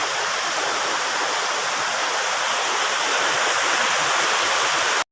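A river rushing steadily nearby with a dense, even hiss of flowing water, loud and unbroken until a sudden cutoff at the very end, with no voices.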